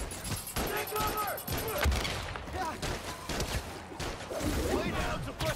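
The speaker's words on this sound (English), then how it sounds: "Lay down, suppressing fire!" Bursts of suppressing gunfire crackle in a Spider-Man video game battle, dense rapid shots layered with shouted voices over steady action noise.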